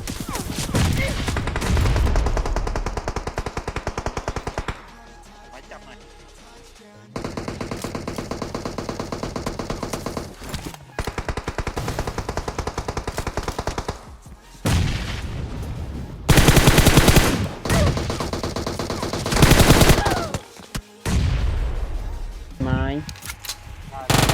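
Gunfire in the mobile game PUBG Mobile crackles in repeated loud automatic bursts and single shots, broken by short quiet gaps, with players talking excitedly over the action.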